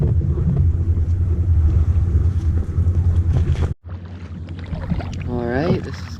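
A canoe is paddled up a narrow channel in the Louisiana swamps, with a close, steady rumble of water and wind against the hull and microphone. There is a brief dropout partway through, and a voice murmurs faintly underneath.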